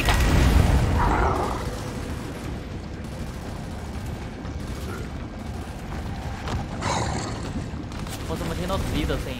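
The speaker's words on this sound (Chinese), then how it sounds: "试着瞄准那些岩石，应该能炸开他们" A rock-blasting explosion in the video game Gears 5, with a heavy boom at the start that decays into a rumbling, creaking mechanical bed and later crackling bursts.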